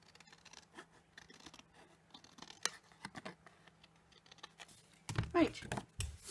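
Scissors cut away excess card in a crafting session. Faint scratching comes first, then a loud close burst of snipping near the end, with quiet voices in the background.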